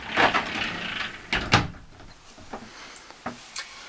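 In a new Roller Team Zefiro 696 motorhome, a sliding door between the bedroom and living area gives a series of soft wooden knocks and bumps. These are followed by a few lighter taps, close by in a quiet interior.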